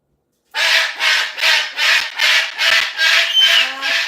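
A parrot squawks loudly and harshly in a rapid series of about eight rhythmic calls, close by, with no talking.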